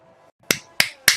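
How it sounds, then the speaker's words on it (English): Three sharp, crisp claps ring out in quick, evenly spaced succession, each with a short decay, close to the microphone and alone. "I'm gonna give you a clap."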